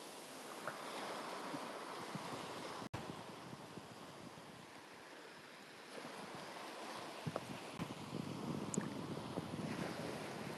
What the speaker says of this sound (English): It's gonna be a big wave soon.